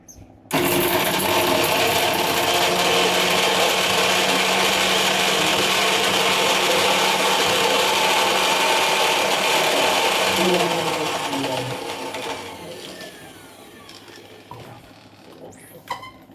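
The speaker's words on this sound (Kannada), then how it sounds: "ಇದನ್ನು ಮಿಕ್ಸಿ ಮಾಡ್ಕೊಳ್ಳೋಣ ಸ್ವಲ್ಪ." A mixer grinder whirs loudly and steadily, blending curry leaves, chillies, ginger, coriander, garlic and salt for masala buttermilk, then winds down and fades to quiet kitchen sounds near the end.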